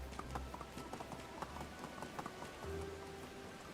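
Horse hooves clip-clopping at a steady trot in the medieval village-building game Medieval Dynasty, with a quiet rhythmic patter running through a faint rain-like background.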